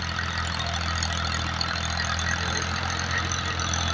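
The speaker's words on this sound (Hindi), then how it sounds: "तो ट्रैक्टर बहुत जोर लगा रहा है।" A diesel tractor engine strains as the machine sinks deep into muddy ground, making a steady, loud, low drone that holds without a break, with no one talking.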